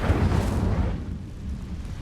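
The Incendio fire spell cast in Hogwarts Legacy gives a loud, low roaring whoosh of flame that swells at once and fades over about two seconds.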